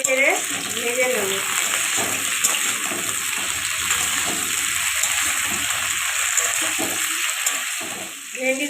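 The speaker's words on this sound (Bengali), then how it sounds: "এবার আগে থেকে ধুয়ে জল ঝরিয়ে রাখা ভেন্ডিগুলো দিয়ে দেবো। ভেন্ডিগুলো 1 থেকে 2 মিনিট নেড়ে চেড়ে ভেজে নেব।" Washed okra being stirred and fried in a pan, a steady loud sizzle with scraping stirs throughout.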